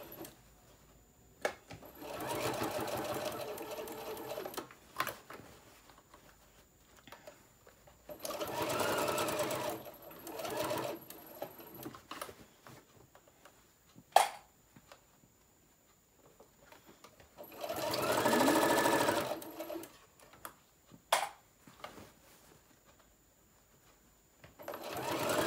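Domestic sewing machine stitching fabric for a lunch tote bag, whirring in several bursts of a few seconds each, separated by quiet gaps with small clicks and handling noises, close and clear.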